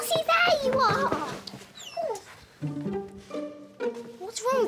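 A dog whimpering in short, high, wavering whines near the listener, mixed with children's voices talking.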